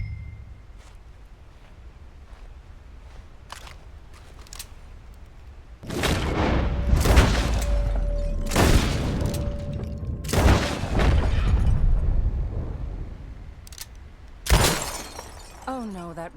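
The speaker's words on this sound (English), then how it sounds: "I'll shoot a few more this time." Gunshots in Red Dead Redemption 2 during shooting practice outdoors: a handful of loud, sharp reports with ringing tails, spaced irregularly over a quiet ambient background, with one last shot after a pause.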